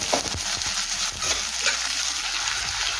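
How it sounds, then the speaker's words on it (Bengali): Chopped onion and ginger frying briefly in hot oil in a pan for veg chowmein, a dense, close sizzle with a few soft stirring knocks. "কয়েক সেকেন্ডের জন্য পেঁয়াজ আর আদাটাকে একটু ভেজে নেব।"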